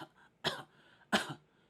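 Two sharp, close coughs about half a second apart, each a short breathy burst, with near silence around them, done as a breath-support exercise for singing.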